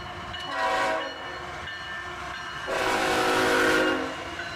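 A freight train with a rear-end CM44AC distributed power locomotive facing backwards rumbles past steadily, and its horn blows twice, with the second blast longer and louder than the first.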